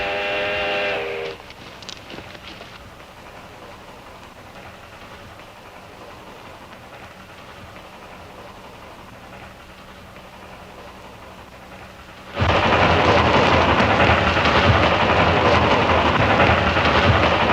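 A steam train's whistle blows briefly in a 1955 Western film, then a long quiet stretch follows before a loud, steady rush of train noise suddenly takes over.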